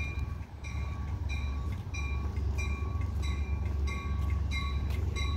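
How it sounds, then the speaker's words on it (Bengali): A local train rolls into Prospect station near Antique railway station, with a loud, continuous low rumble and regular clicking wheel beats as it enters the platform. "এই যে ট্রেনটি প্ল্যাটফর্মে ঢুকছে।"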